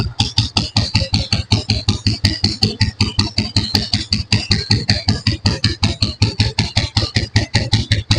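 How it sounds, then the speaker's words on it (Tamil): A Royal Enfield Bullet motorcycle engine idles at slow speed with a steady, loud thumping beat, evenly spaced pulses repeating throughout with no talking. "ஸோ ஸ்லோ ஸ்பீடு பீட் சவுண்ட்லாம் கேளுங்க."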